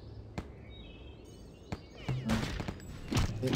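Gunfire in the Return to Castle Wolfenstein video game, a few isolated sharp shots followed by a denser burst of rapid firing, mid-distance under game ambience.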